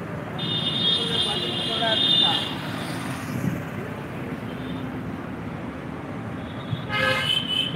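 Car horns toot repeatedly in a traffic jam on a main road in Ambattur, Chennai, sounding over a constant rumble of engines and traffic, with a sustained honk near the start and more blasts near the end.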